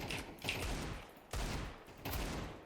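Three spaced Desert Eagle pistol shots in Counter-Strike 2 crack out at roughly one-second intervals, each a sharp loud report with a short echoing tail.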